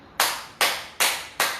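Four crisp, evenly spaced hand claps ring out during a group exercise session, loud and close with a steady beat and no talking.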